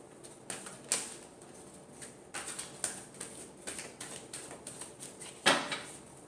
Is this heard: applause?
no